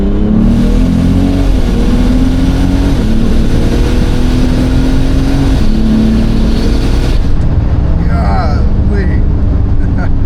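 Diesel BMW street car under hard acceleration, its engine loud and close with a steady rising drone and brief dips at gear changes, then easing off near the end.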